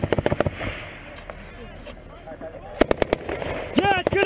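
Bursts of rapid gunfire crack out during a U.S. Army firefight in Afghanistan, sharp reports in quick volleys at the start and again near the end, with soldiers shouting over the shooting.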